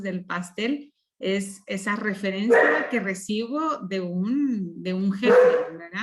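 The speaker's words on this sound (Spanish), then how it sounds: "perdón por los ladridos" A dog barks a few times in the background, partly masked by a person speaking Spanish continuously in the foreground.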